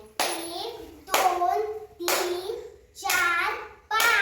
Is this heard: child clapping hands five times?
yes